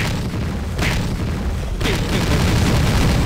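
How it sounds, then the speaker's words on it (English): A burst of explosion-like booms from the Interactive Buddy video game, two rough noisy blasts over a few seconds, fairly loud and close. "oh my god. Oh, this does make the explosion"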